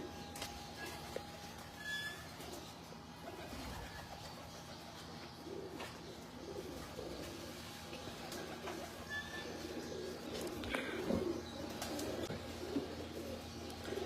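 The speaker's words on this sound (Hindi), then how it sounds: "ये मेरा 30 नंबर कबूतर है, शौक करवाता हूँ आपको इसका।" Pigeons coo softly on a Lahore rooftop, faint and somewhat distant, against a low steady background hum with scattered small noises.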